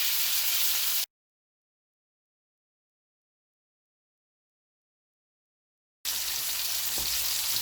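Steak frying in a cast iron pan on a stovetop with butter and garlic, a steady loud sizzle and hiss that cuts out to complete silence for several seconds, then resumes just as strongly.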